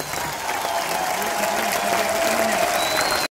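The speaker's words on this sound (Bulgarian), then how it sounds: "Вашите силни аплодисменти за градоначалника на този прекрасен град." A large crowd at an open-air ancient theatre in Plovdiv applauds the city mayor, a steady, loud wash of clapping that cuts off abruptly at the end, with voices under it.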